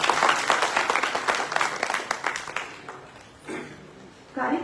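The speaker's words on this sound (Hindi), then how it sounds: "सभी लोगों से कहूंगी कि तालियों के साथ हमारे अतिथि का स्वागत करें।" Audience applause welcoming guests onstage at a community seminar, a burst of clapping that thins out and gives way to brief bits of a voice over a public-address system.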